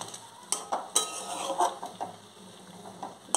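Chicken in a low-spice Bengali curry stirred in a cooking pot, a handful of close metallic scrapes and clinks of a spoon against the pot in an uneven rhythm over a soft background hiss.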